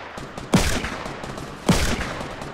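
Two sharp, loud gunshots in a video game about a second apart, each with a brief echoing tail over low game background noise.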